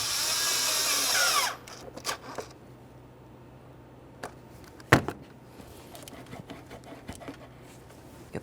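A socket wrench works 8mm bolts on a 2.5L four-cylinder Nissan Altima engine during a knock sensor replacement. A short steady ratcheting whir is followed by scattered clicks and metallic taps, close and fairly quiet, with no talk.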